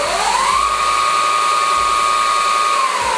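A tuned HeyBike Villain electric bike motor revs up with a rising whine that levels into a steady high hum, loud and close, then begins to drop at the end.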